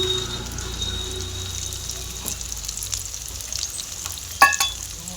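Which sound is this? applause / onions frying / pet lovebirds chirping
onions frying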